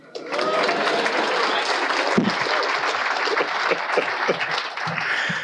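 A large audience at a media talk breaks into sustained, loud applause that fills the room evenly for several seconds, with a few louder claps standing out near the end.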